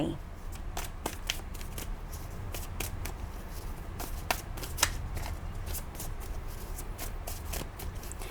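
Tarot cards are shuffled close by in a rapid run of crisp riffles and soft slaps that repeats over several seconds, with a quiet voice in the background.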